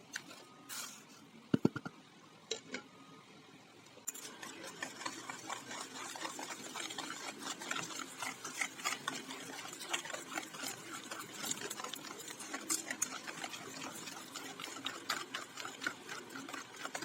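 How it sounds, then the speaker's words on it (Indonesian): An electric mixer beats three eggs with granulated sugar for an Indonesian bika ambon batter, giving a steady, close whirring hum with rattling texture that starts after a few seconds of quieter handling and runs on continuously. "Kocok 3 butir telur dan gula pasir."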